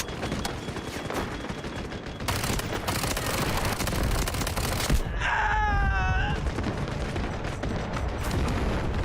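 A hard-recoiling gun fires in Delta Force, sounding as dense, rapid bursts of gunfire throughout along with heavy booms, and a short whining tone cuts through the shooting midway.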